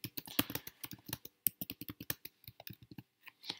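Typing on a computer keyboard, rapid irregular key clicks following one another closely with brief pauses, close and moderately loud with no voices.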